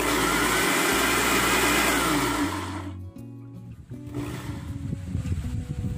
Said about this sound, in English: Let's add the sliced mango to the blender and blend it.